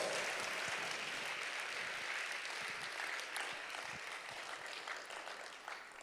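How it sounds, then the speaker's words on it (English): Applause for a panel at a Jamaica agri-business investment forum: a dense, steady round of clapping from a large crowd. It holds loud and continuous for about six seconds, then begins to thin slightly toward the end. "Can we give them a big round of applause?"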